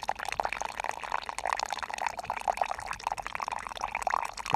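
Hot, steaming water pours from a makeshift spout while cooking on a winter trail in Finland, a continuous close splashing trickle with uneven gurgles lasting the whole stretch.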